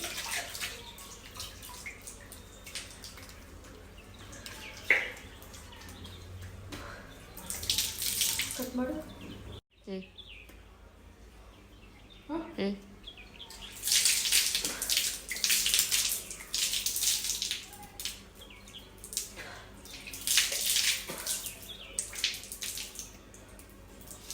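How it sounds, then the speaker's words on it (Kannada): Rice is rinsed in water by hand, giving soft, irregular sloshing and trickling close by, with a brief pause midway before livelier splashing resumes. "ಇನ್ನೊಂದು ಸಲ ಅಕ್ಕಿನ ತೊಗೊಂಡು ತೊಳಿತಿದ್ದೀನಿ"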